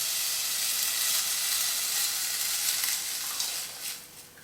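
Vegetable stock hitting a hot soup pot with leeks, a steady broad sizzle and hiss that holds evenly and then eases slightly toward the end, with no talking.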